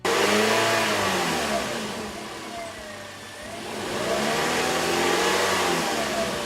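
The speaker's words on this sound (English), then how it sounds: "So you rev your engine." A car engine revs up during a battery and alternator load test, climbing to a loud sustained whine, easing back down, then rising again in a second rev.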